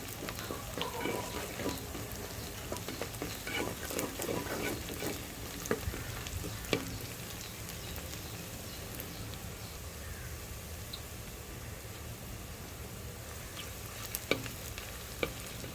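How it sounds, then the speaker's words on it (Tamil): Chicken pieces and onions stir-fried in a pan for a Hyderabadi-style chicken fry, cooked outdoors in a village kitchen, give a steady close sizzle throughout, with occasional scraping clicks from the stirring and faint birds in the background. "இதே மாதிரி இன்னும் கொஞ்சம் நல்லா வதக்கிக்கலாம்."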